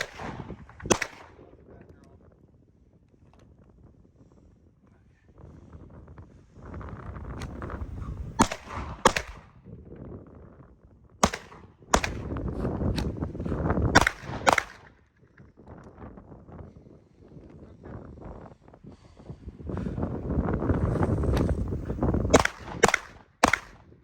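Sharp, loud shots ring out from a Sig Sauer P226 Legion 9mm handgun at an outdoor range, fired singly and in quick pairs and strings with pauses between, amid rustling and handling noise.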